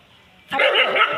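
A dog barks and yips in a quick, loud burst that starts abruptly and carries on close by, with no talk over it.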